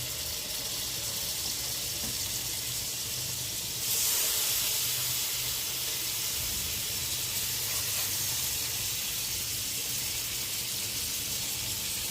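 Steam hissing steadily from an oven set on a low flame while cooking chicken butter masala, a continuous broadband hiss that grows slightly louder after a few seconds and holds without talk.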